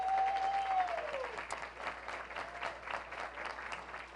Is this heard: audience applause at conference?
yes